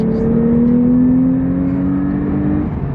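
A Porsche 911 Carrera T flat-six engine pulls hard after a shift into third gear, a loud, close, rising drone with a clear climbing pitch that drops off sharply near the end.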